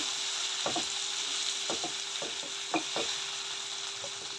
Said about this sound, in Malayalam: തക്കാളി ഇതാ അവിടെ ഒന്ന് ഫ്രൈ ആയി വരുന്നുണ്ട്